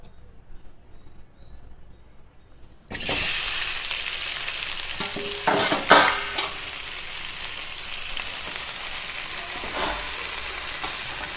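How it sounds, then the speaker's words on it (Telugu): Mint and tomatoes hit hot oil in a pan and burst into a loud, steady frying sizzle that holds throughout, with a few brief clinks of stirring partway through and quiet room noise before it starts. "అదే బండిలో కొంచెం ఆయిల్ వేసుకొని, ఒక స్పూన్ ఆయిల్ వేసుకొని మళ్ళీ పుదీనా టమాటాలు వేద్దామండి."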